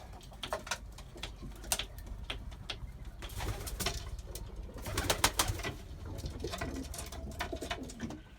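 Bango pet pigeons coo steadily at close range, their throaty calls overlapping with small taps and patter from the birds moving about, with no voices over them.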